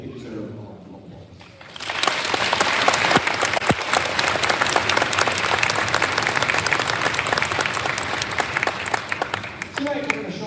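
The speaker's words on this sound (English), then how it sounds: "I think they deserve a lot of applause" A school concert audience breaks into loud, sustained applause after a quiet start, dense clapping with some crowd noise carrying on steadily for several seconds.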